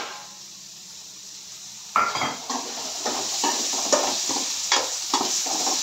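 Soya chunks frying in a pan for fried rice: quiet low hiss at first, then a louder sizzle with repeated scraping stirs and clinks of a utensil against the pan, close and without talk.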